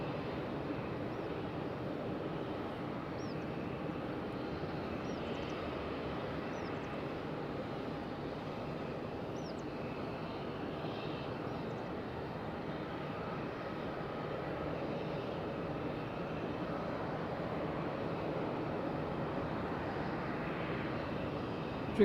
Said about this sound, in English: Amazing, amazing plane.